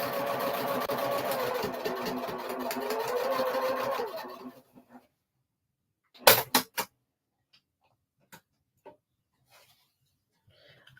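A sewing machine stitches in a steady whirring run for about four seconds while paper piecing a pillow, then stops, followed by a few brief clicks and handling noises.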